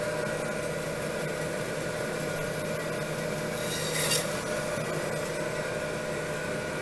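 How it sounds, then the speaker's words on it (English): A butcher's bandsaw runs steadily while cutting lamb shoulder into chops and roasts, a continuous close motor hum with a brief harsher rasp partway through. "So we're gonna move over to the bandsaw."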